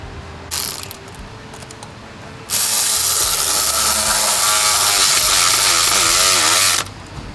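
A ratchet drives bolts snug on a 2013 Volkswagen Beetle during water pump and oil cooler work, with a few short clicks up front, then a loud, steady whirring run of about four seconds, close by with no talk.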